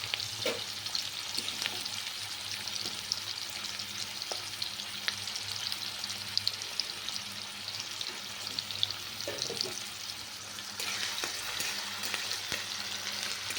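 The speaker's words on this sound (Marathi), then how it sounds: "कांदा छान भाजून घ्यायचा" Onion roasting in a pan for drumstick amti, a continuous moderate sizzle with occasional soft stirring clinks and scrapes, no voices.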